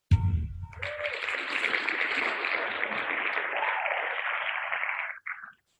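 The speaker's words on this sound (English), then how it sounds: "Thank you, Russ, for that applause" Applause on a radio show, a broad hiss of clapping rising quickly, holding steady for several seconds and then cutting off abruptly.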